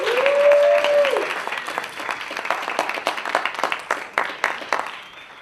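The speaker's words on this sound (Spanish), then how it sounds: "Un aplauso para ese equipo que está transmitiendo todo el Congreso" An audience at a congress bursting into sustained applause for the broadcast team, loud and dense clapping across the hall that thins slightly near the end, over a brief rising tone at the start.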